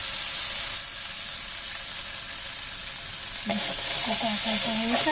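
Masala gravy for katla fish curry fries in oil in a pan, a steady loud sizzle and hiss throughout that turns crackly and spitting toward the end as the oil separates.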